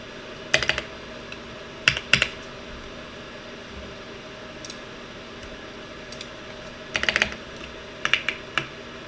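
Someone types on a computer keyboard during 3D rigging work, with scattered short bursts of close, crisp key clicks separated by pauses over a faint steady fan hum.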